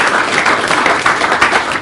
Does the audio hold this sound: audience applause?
yes